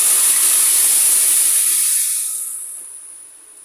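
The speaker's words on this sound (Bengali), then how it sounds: "ঢেলে দিব সবজিগুলো।" Vegetables hit a hot pan in a loud, steady hiss of sizzling steam that holds for about two seconds, then gradually fades and softens toward the end, with no voices.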